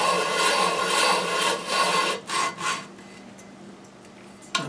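Disc sander grinding segmented wood wedges, a steady loud rasping for about two seconds, then a few short sanding passes before the motor hum continues alone, no talking.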